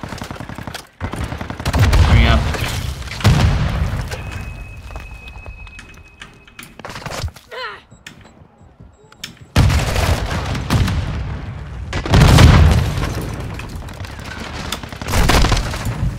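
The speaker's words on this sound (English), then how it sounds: "He missed a rocket launcher on me, and he still kills me." Rocket launcher blasts and gunfire in a video game, several loud bursts and booms spaced through the stretch with quieter gaps between, close and sharp.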